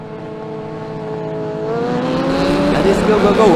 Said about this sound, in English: So in few seconds, car will enter the main straight, and they will have then 10-lap race from rolling start.